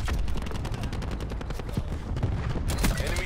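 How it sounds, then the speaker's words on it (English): Cluster grenade exploding in a shooter video game, a rapid crackling string of small detonations like a fusillade, loud and close, with no talk over it. "Cluster grenade going out."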